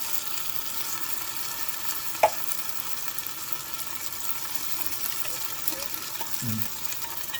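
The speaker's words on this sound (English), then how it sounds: "next is I'm going to dump in 1 can of kidney beans." Steady sizzling of beef frying for chili, with a brief clatter and a few soft splashes as a can of kidney beans is dumped into the pot and stirred.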